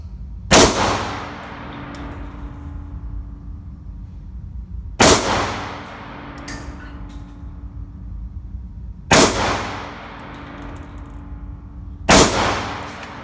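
Four Tokarev pistol shots ring out at an outdoor range, each a loud, sharp crack with a decaying echo, spaced about four seconds apart, with faint clinks between them.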